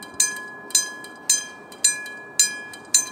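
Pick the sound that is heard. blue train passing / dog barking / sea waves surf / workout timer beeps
blue train passing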